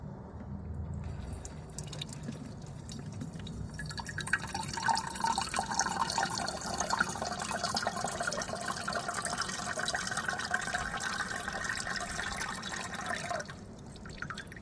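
Water poured onto a Fisker Ocean windshield drains and drips beneath the car, a quiet, steady trickle and patter that swells in the middle and then fades.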